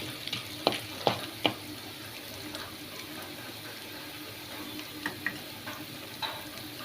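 Urad dal frying in a pan for a spicy powder mix, a steady soft sizzle with a few light clicks of stirring and scraping at close range, no talking.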